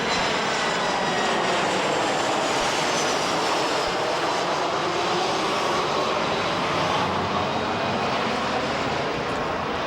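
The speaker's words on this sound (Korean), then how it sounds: "중국 영길에서 출발한 비행기 한 대를 사람들이 초조하게 기다린다" An airplane arrives at an airport, its engine roar loud and steady throughout, a broad sustained whoosh with no voices.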